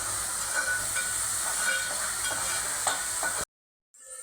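Onion and tomato sautéing in a pan for a mutton rasa, a steady close sizzling hiss with faint stirring scrapes, ending abruptly in a brief silence before the sizzle returns, no talking.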